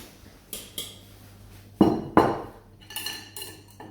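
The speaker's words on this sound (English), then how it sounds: "we're going to put our whisks on our plate over here" Metal whisks set down on a plate in a home kitchen while making strawberry cheesecake, giving two sharp clattering clinks near the middle with lighter taps before and after, close and fairly quiet.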